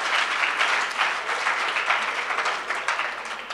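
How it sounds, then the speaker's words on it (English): Steady, dense applause from an audience at a career expo, a close wash of many hands clapping evenly for a few seconds without pause. "Clap, clap, just give yourself a round of applause."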